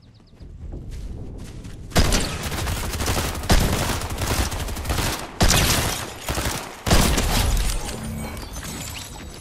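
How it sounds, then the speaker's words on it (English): In Fortnite, a Frenzy auto shotgun fires loud, rapid blasts in several quick bursts, each burst separated by a brief pause. "Frenzy auto shotgun"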